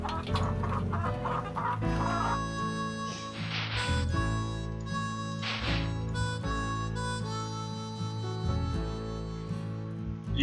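Hens in the Nancy Drew video game, likely the Shadow Ranch setting: continuous loud, close clucking and squawking from several birds, with a flutter-like burst or two, running throughout without talk.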